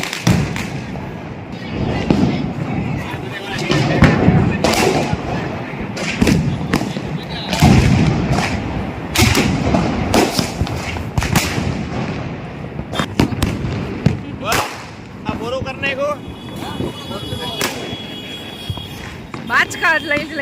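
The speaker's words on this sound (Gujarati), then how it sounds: "બહુ બધા ફટાકડા ફૂટે છે." Many Diwali firecrackers and fireworks burst on a road, sharp loud bangs and thuds going off irregularly, some near and some farther, with people talking throughout.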